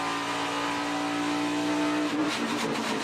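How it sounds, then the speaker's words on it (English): NASCAR stock cars racing at Homestead-Miami Speedway during the 2015 Ford EcoBoost 400, a loud sustained engine howl holding one pitch, then breaking up as cars roar past close to the wall, no talk. "the 42 of Kyle Larson has been the car on the move, and he has been running within a foot of the wall"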